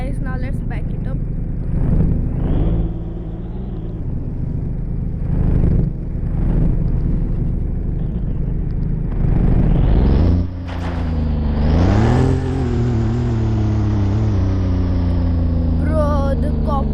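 Supercar reversing at a dealership, its engine rumbling near and loud with a few swelling revs and rising tones as it moves, while someone talks intermittently.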